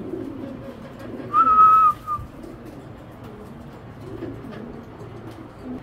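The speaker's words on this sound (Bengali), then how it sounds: "আমি একটু দেখাই কবুতর দুইটা" A single racing pigeon coos briefly once against a quiet, faint room background; otherwise near silence.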